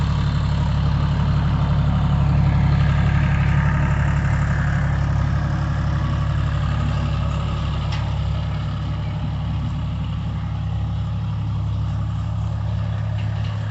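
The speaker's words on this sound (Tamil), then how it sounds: "இங்கே பாருங்கள் வண்டி ஓடிட்டு இருக்குது" A John Deere tractor engine running steadily with a deep, constant drone and hum that stays loud and even throughout, with no voices.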